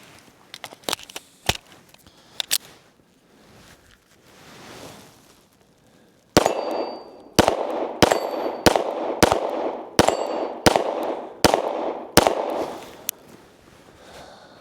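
A Springfield Prodigy DS Comp pistol fires MagTech 124-grain full metal jacket rounds outdoors: a few scattered sharp cracks, then a rapid string of about ten loud, evenly spaced shots, each with a short ringing tail.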